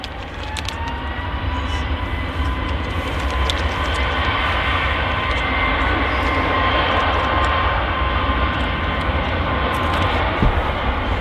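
Aircraft at Manchester Airport roar steadily with a broad, loud engine rumble and whine, continuous throughout, with faint clicks and distant ambient noise.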